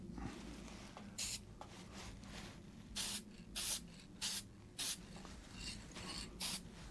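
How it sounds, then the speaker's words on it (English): A can of Permatex spray gasket sealant is sprayed onto gaskets during a Vauxhall Royale engine rebuild, giving about six short, sharp, close hissing bursts separated by brief pauses over a quiet background. "Permatex sprayer gasket"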